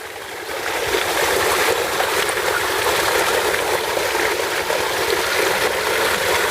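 Water gushes steadily from a running 10 HP solar water pump, a loud constant rushing that starts after a brief quieter moment and continues without talk.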